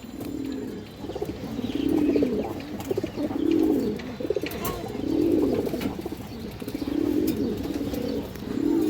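Pigeons coo in a steady repeating rhythm, each rolling call pulsing every second or so, close and fairly loud, with a few faint chirps and light rustling from the loft of bred racing pigeons.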